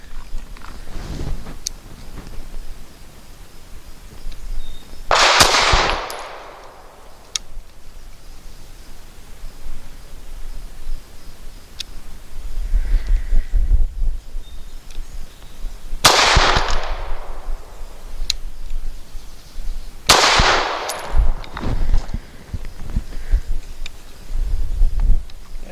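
Three loud, sharp pistol shots from a SAR USA B6C firing Norma 108 grain monolithic hollow points, spaced several seconds apart outdoors, with rustling and handling noise between them.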